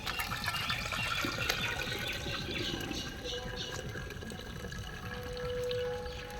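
Boiled chow mein noodles tipped out to drain, with water running and splashing steadily into a sink or strainer for several seconds, close by, alongside a little kitchen clatter.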